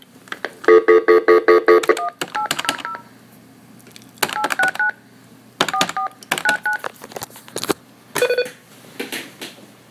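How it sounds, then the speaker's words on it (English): Phone number dialed on a telephone keypad: a long fast run of DTMF tones at the start, then several separate short bursts of button beeps with pauses between, close and clear. "Their phone number is 800-869-4499. Let's call them."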